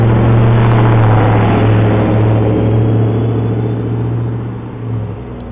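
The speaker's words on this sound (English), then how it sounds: "That SUV is louder than the train." A loud SUV engine roars steadily close by in a residential neighborhood, a heavy sustained drone that eases slightly as the vehicle passes, with no voices over it.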